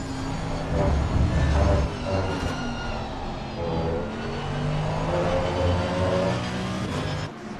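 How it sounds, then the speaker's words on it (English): A Mercedes race car engine in a racing video game drones steadily at high revs around Suzuka, its pitch rising and falling as it shifts gears, heard continuously without any talking. "I do like the sound of the Merc."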